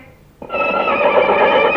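A horse gives one loud, close neigh, a sustained whinny that starts abruptly and carries on to the end.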